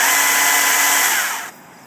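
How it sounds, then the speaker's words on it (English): A STIHL MSA 160C cordless 36-volt chainsaw runs with a steady, loud electric whine close by, then winds down near the end, with no talking. "I got the STIHL MSA 160C cordless 36-volt chainsaw."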